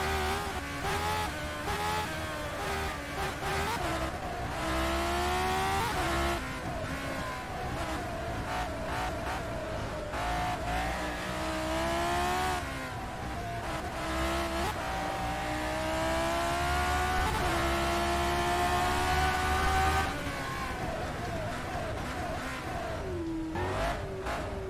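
A race car engine in the rFactor 2 racing game revs loud and continuously, climbing and dropping through repeated gear changes over a steady drone, with no talk.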